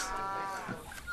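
A single drawn-out cattle moo, close and fairly loud, with a steady tone that sags slightly toward the end.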